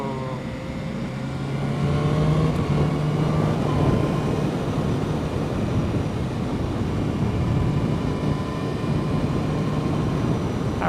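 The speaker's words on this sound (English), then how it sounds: "I hope you guys can hear that engine note." A 2015 BMW S1000R motorcycle engine while riding on a winding downhill road, a loud close engine note that rises and holds steady, with pitch shifting as the rider works through the gears, under strong wind rush.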